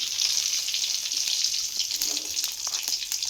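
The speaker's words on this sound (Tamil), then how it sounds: "மட்டன் கறி தான் நம்ம இப்போ வதக்க போகிறோம்" Mutton frying in a pan, a steady, loud sizzle that runs unbroken throughout with faint stirring scrapes and no talking.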